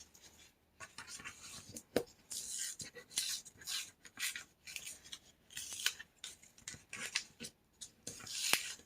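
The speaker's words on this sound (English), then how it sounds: "I'm just having fun ripping paper." Paper is torn by hand in a series of quiet, close, rasping rips, each a short crackling burst separated by brief pauses.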